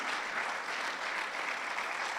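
A church congregation applauds during a Spanish-language sermon, a soft, even, continuous patter of many hands heard from a distance.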